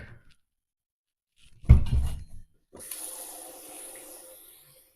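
Water poured into a roasting pan holding lamb with oil and chicken broth, a short splashy pour followed by a softer, hissing stream that tapers off.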